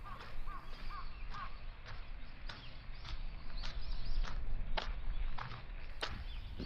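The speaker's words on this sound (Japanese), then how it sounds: "鳥の声がしますね。" A crow caws and other birds call in the quiet Korakuen Japanese garden beside a large pond, with sharp intermittent calls over steady footsteps on a path and a low outdoor hum.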